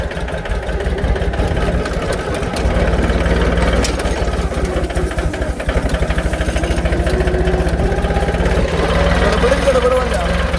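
Tractor engine running at full throttle, a loud, steady, low mechanical drone with a rapid throbbing pulse throughout, close by, with a voice speaking over it.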